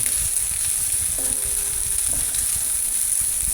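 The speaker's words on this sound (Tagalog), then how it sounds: "Natutusta na rin yung ating garlic." Garlic toasting in hot oil in a pan for Chinese pork adobo, a continuous dense sizzle with a faint brief clink in the middle, close and steady with no voices.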